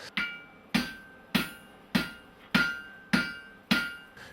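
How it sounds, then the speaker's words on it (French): A blacksmith draws out hot metal with a roughly 2.5 to 3 kg hand hammer, striking in seven evenly spaced ringing blows about every 0.6 seconds, each with a bright metallic ring that decays between strikes, close and loud. "Donc je vais bien chauffer ce métal pour pouvoir faire l'étirement au marteau"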